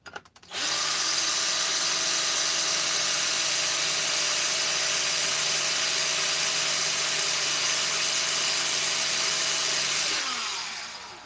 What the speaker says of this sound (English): The drill bit's working